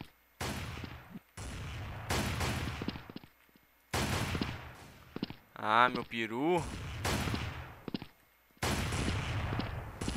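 Gunfire in a first-person shooter video game, several loud bursts of rapid shots separated by short silent gaps, with a player speaking briefly between the bursts.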